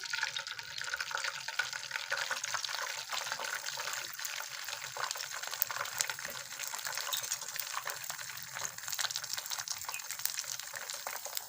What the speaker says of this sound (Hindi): पैन में हमने ऑयल लिया है जो कि गर्म हो चुका है। अब हम इसमें अंडे को फ्राई करेंगे।